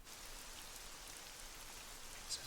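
Steady, faint rain falls as an ambient weather effect for a tabletop adventure scene, an even hiss of drops on a surface with no voices.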